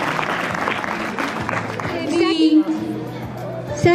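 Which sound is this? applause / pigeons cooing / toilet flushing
applause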